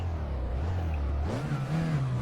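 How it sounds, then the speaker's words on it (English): Race car engine in the rFactor 2 racing game, a low steady drone that rises in pitch as the car accelerates, heard up close. "I can hear the engine pretty good"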